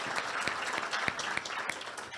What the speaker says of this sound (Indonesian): Kita beri tepuk tangan Pak Budi Ari.